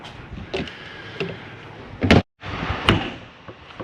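An RV's exterior door is pushed shut and locked, with a few light clicks and rattles, then a sharp slam followed by the quick snap of the lock and deadbolt. It sounds close, with no voices.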